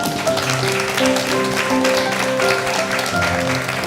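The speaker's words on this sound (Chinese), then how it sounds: "再一次把掌声归给我们的神。" A large church congregation claps together in steady, continuous applause during a Sunday service, with music sustaining underneath throughout.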